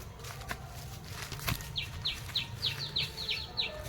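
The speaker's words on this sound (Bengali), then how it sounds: "ওই দেখুন পাখি ডাকছে" A bird perched on a branch gives a rapid series of about ten short, high chirps at a steady rhythm, clear against a quiet outdoor background with faint rustling.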